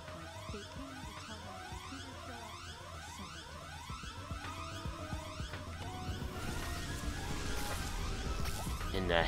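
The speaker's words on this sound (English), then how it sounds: "She set off the alarm." A blaring alarm siren wails in High On Life, its repeating rising sweeps looping steadily over the game's music and effects, growing louder and denser toward the end.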